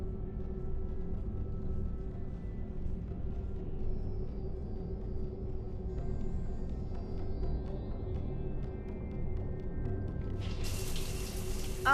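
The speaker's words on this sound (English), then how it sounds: "I figured you'd be more interested in a shower." A shower aboard the ship in Mass Effect 3 runs with a steady, soft water hiss and low rumble for twelve seconds, a faint tonal hum beneath, and a brief brighter burst of noise at the very end.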